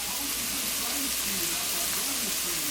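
Red onion sauteing in a pan, a steady soft sizzle and hiss running throughout, with a voice talking faintly under it.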